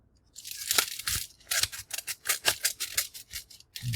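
Scissors snipping through a stapled, glued mailed package, a quick series of crisp cuts and crunchy tearing close by, with brief pauses between bursts.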